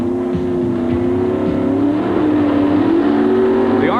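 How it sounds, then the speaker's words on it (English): Drag racing cars at an NHRA event, including a Pontiac with an engine limited to 500 cubic inches, roar loudly and continuously, their revs climbing steadily, with a rising pitch sweep at the end. "The RPMs begin to mount."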